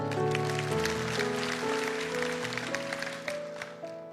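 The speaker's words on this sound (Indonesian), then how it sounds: "Kasih tepuk tangan untuk Tuhan." A church congregation claps for God during a morning prayer service, a dense wash of applause running the whole time beneath sustained keyboard chords.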